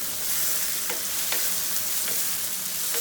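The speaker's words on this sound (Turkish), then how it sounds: "Şöyle bir daha karıştıralım." Steady frying sizzle of eggplant in a pot with a few scraping stirs of a utensil at irregular intervals, close and continuous, no voices.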